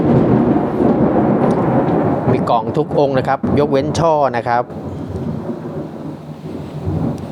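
Low, rolling thunder rumbles continuously through a rainy thunderstorm, loud and broad, while someone talks steadily over it.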